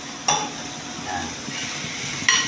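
Crispy sisig is stirred in a pan, a steady sizzle broken by two sharp metallic clinks of utensil against the pan.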